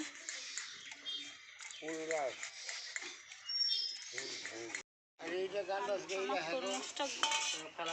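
Watermelon pulp being rubbed fine through a strainer gives a steady scraping and clinking of a utensil against mesh, running under nearly continuous talk with a brief pause near the middle.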